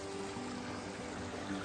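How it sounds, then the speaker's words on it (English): A small creek along the Appalachian Trail flows in a steady, soft rushing trickle, faint and continuous throughout. "Nice little creek."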